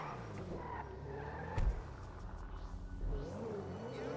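Pegassi XA-21 supercar driving and accelerating in GTA V, a low engine rumble that swells in two brief surges amid road noise, fairly close and steady over a few seconds.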